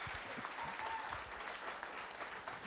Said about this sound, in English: Give them a round of applause just for being great people.